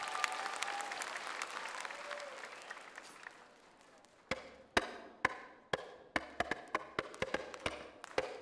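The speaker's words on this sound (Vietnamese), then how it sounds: "Một tràng pháo tay nồng nhiệt thưa quý vị" Audience applause at a dance competition grand-final gala fades from a full, dense roar into a trickle of loud, scattered individual claps spaced irregularly through the second half.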